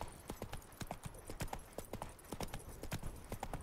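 Horse hooves clip-clop in a brisk, regular rhythm as a horse is ridden in the video game The Witcher 3, sharp distinct steps heard quietly against a faint background.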